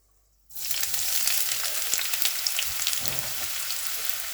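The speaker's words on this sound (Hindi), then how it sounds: "ऑयल हमारा काफ़ी गर्म हो चुका है जैसा कि आप देख सकते हैं। अब हम इसमें प्याज ऐड करेंगे।" Chopped onions hit hot oil in a pan for chicken ginger karahi. After half a second of silence a loud, dense sizzle bursts in and holds steady, with a faint stir or shift near the end.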